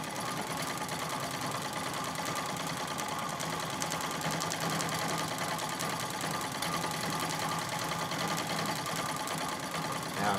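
A Singer 66 treadle sewing machine stitches steadily during free-motion quilting of feathers, a soft, continuous rapid mechanical clatter heard close and alone throughout.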